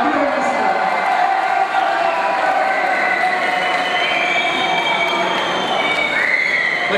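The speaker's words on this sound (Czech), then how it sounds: "obrovský potlesk" Audience at a dance ball applauds and cheers for a second-place waltz result, a dense, continuous roar of clapping with shouts and whoops, loud and sustained.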